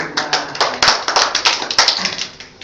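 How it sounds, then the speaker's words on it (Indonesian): A small group claps hands at an indoor meeting, a quick run of sharp, close claps that fade toward the end. "Tepuk tangan dulu"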